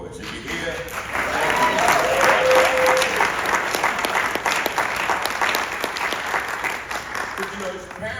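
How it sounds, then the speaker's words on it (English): Steady applause from an audience at a poetry event at the Guggenheim in New York swells and sustains for several seconds, with cheering voices mixed in, then tapers off at the end. "I want to give a bigger round of applause to the parents of"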